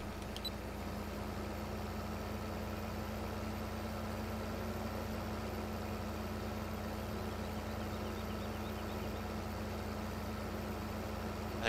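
A tractor engine in Farming Simulator 15 drones steadily at a low, even idle, faint and unbroken, with no talking over it.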